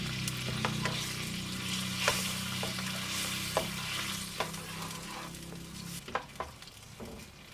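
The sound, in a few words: rice and water added to sizzling chicken paella pan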